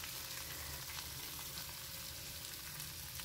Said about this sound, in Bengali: মাছগুলো ভাজতে হবে।